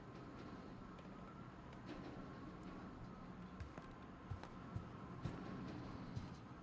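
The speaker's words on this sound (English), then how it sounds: "we're near a train track, sounds like" A train rumbles past on a nearby track in a rainy scene of the game What Remains of Edith Finch, a steady low rolling drone with faint clanks toward the end.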